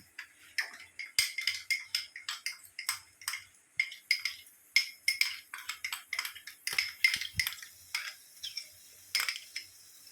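A spatula stirs a spice mix in a wok for a dish of hilsa fish heads with taro greens, giving a quick run of sharp metallic clinks and taps, close and fairly quiet, with no talk.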